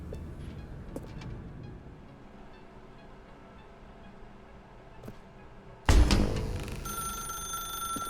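An old-style telephone bell rings loudly and suddenly in a quiet, dim room inside a video game, cutting in after a long stretch of faint low ambience.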